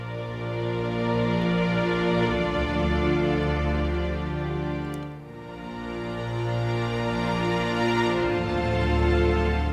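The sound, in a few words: Symphonic Series string ensemble library with reverb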